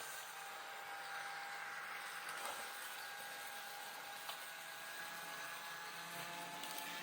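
Steady, faint electric whine of a Kato N scale ES44C4 model locomotive motor running, a smooth continuous hum with a thin high tone and no talk over it.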